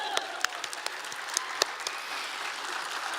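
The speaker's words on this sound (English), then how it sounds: "One more round of applause." Medical school graduates and guests at a commencement ceremony give a round of applause, heard as a steady, somewhat distant crowd clapping with a few sharp, close individual claps and faint cheers on top.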